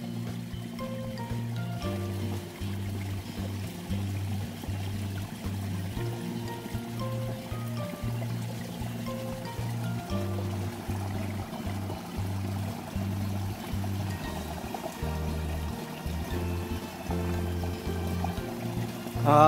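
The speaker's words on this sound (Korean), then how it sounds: "이렇게 계곡물 소리도 들으면서" A mountain valley stream flows steadily among wild alpine flowers, a constant close rushing and trickling of water with no voices.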